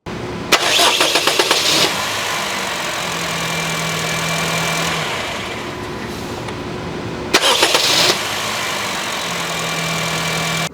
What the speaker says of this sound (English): let's fire her up and see if she sounds any better